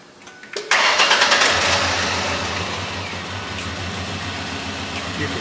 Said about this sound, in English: You can tell by the sound of it that it's misfiring pretty good.